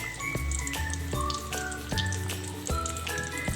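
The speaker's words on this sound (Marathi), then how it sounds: "कढईमध्ये फ्राय करायला टाकायचं आहे" Besan-battered vada pav patties fry in oil in a kadhai, with a soft continuous sizzle and periodic bubbling bursts, close and fairly quiet.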